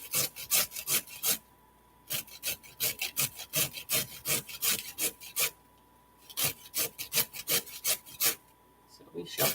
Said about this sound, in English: I kind of like grating carrots.